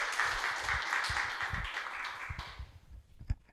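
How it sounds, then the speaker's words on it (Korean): Audience applause at a Seongnam future education forum, a crowd clapping steadily and fading out after a few seconds, moderately distant in a hall. "박수 부탁드립니다."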